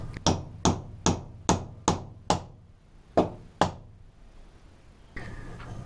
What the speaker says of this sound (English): I then drive a wooden wedge into the slot in the handle to hold the head in place.